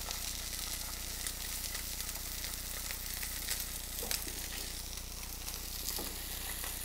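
Chilean sea bass sears in a hot pan while pressed down, a constant close sizzle over a low steady hum, with a few faint scrapes and taps, no talking.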